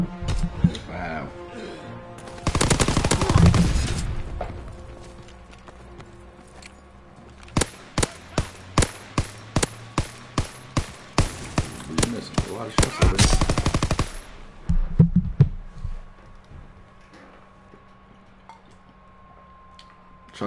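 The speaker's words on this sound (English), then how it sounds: "Shots fired." Rapid bursts of video-game gunfire in a winter siege match: a long loud burst, a string of evenly spaced single shots, then another sustained burst, with faint game ambience between.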